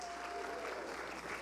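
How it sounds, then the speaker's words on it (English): Concert audience applauds soloists, a faint, steady wash of distant clapping with no break, brief and low in level. "I'd like to get applause for our soloists, Armando Acevedo and Jen Mayer."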